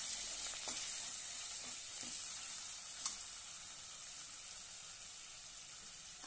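Ghevda beans sizzle steadily in hot oil in a pan as they are sautéed with salt and kala masala, a constant close frying hiss with a few soft stirring clicks and no talking.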